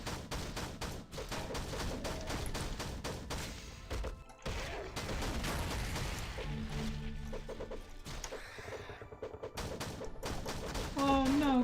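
Gunfire in the video game SAS 4 heard from inside a ship, with dense bursts of shots and crashes running almost continuously, loud and busy rather than clearly distant, with a brief lull near the middle.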